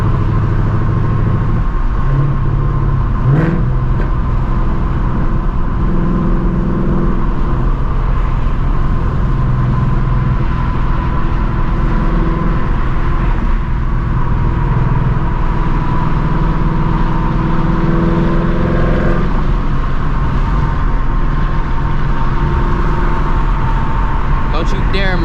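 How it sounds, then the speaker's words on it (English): Ford Mustang GT S650 with active exhaust driving through rush-hour traffic, a steady low engine drone and road rumble running throughout, with people talking over it. "That's exactly why I love the active exhaust."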